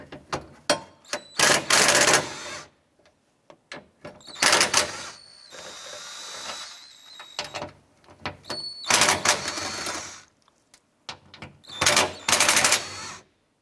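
A tool removes four 10mm bolts from the rear window regulator of a 2004-2009 Dodge Durango in several short, close whirring bursts separated by quiet pauses.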